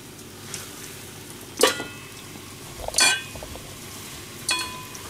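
Food frying in oil while cooking cabbage fritters and fried chicken and mackerel, a low steady sizzle with three sharp bursts of crackling spitting as pieces hit the pan.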